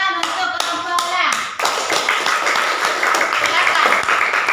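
Classroom applause for a student group in an Indonesian primary school: a few sharp taps open it, then children break into brisk, close, continuous clapping.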